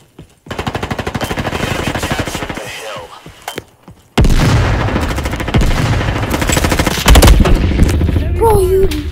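Rapid automatic gunfire in a Roblox Call of Duty game, sustained bursts for several seconds, a short gap, then louder dense shooting with booms, and a voice briefly audible.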